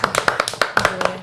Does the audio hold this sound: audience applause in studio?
yes